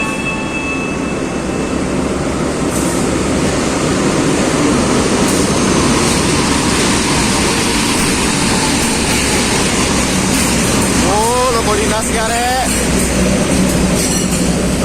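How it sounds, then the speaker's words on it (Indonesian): A Pandalungan passenger train arrives at Bangil station, with a continuous loud rolling rumble and a burst of high, wavering wheel squeal late on. "Jam 8:10 kereta api Pandalungan telah tiba di stasiun Bangil."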